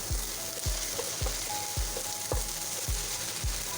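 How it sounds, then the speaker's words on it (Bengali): Chopped onions, ginger and garlic fry in mustard oil with a steady loud sizzle, and a spatula scrapes and knocks against the pan in a regular rhythm about every half second. "সরিষার তেল দিয়ে দিলাম এবং পেঁয়াজ কুচিগুলো দিয়ে দিলাম।"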